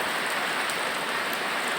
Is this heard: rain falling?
yes